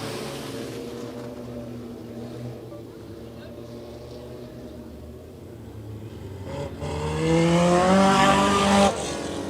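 Race cars lapping an oval track during a late-race battle, engines droning steadily and then swelling louder as cars pass close by, with a commentator talking over the noise.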